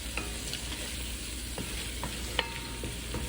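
Flour being stirred into a roux in a pan, a quiet steady sizzle with faint scrapes and a few sharp spoon clicks against the pan.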